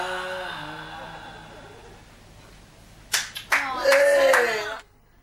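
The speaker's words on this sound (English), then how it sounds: "I love the really delayed clap there" Singing voices trail off, then after a short pause a few scattered claps break out, a brief burst of clapping that quickly stops.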